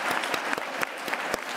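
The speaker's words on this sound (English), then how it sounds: "Let's clap that." Audience applause at a healthcare conference, a steady wash of many hands clapping with a few sharper individual claps standing out, sustained and fairly close through the short stretch.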